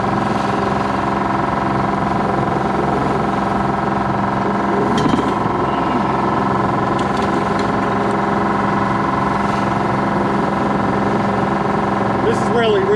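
A sailboat's small engine drones steadily while motoring through a marked channel, a continuous loud hum with wind rush throughout and a person talking over it.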